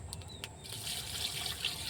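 Water pours in a steady stream into a pot holding snakehead fish, a soft continuous splashing rush at low volume.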